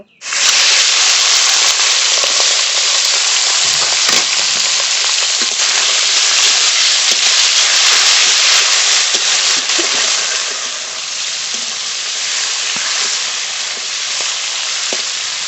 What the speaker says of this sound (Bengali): এবার প্রথমে কাকলি মাছগুলো ভেজে নেব